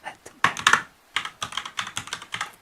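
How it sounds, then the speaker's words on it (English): Computer keyboard typing in an ASMR setting, with crisp close key clicks arriving in quick bursts, then a short pause and another run of irregular taps. "ASMR keyboards."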